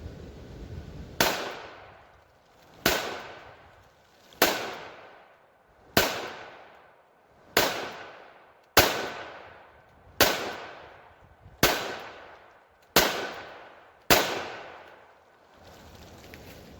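Ten sharp pistol shots from a Ruger LCP MAX firing 95 grain ball ammunition at about seven to eight yards, evenly spaced roughly one and a half seconds apart, each loud crack followed by a short fading ring outdoors.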